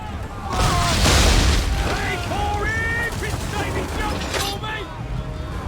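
Naval ship cannons firing in the video game Assassin's Creed III, a heavy booming barrage with rumbling blasts, mixed with game music and shouting voices.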